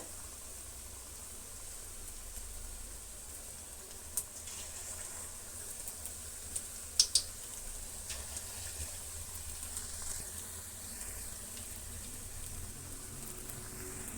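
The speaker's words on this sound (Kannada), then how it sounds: "ಚೆನ್ನಾಗಿ ಫ್ರೈ ಆಗಬೇಕು ಡೀಪ್ ಫ್ರೈ ಆಗಬೇಕು" Bombay bonda fritters deep frying in hot oil, a steady fizzing hiss throughout with a few brief crackles and pops, no voices.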